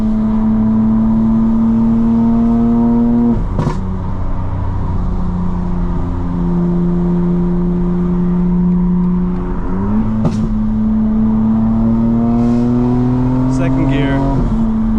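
Cabin view of a 900hp 2025 BMW M4 Competition xDrive with all-wheel drive pulling hard, its engine note climbing steadily through loud revving sweeps with brief breaks at gear changes, continuous and close throughout.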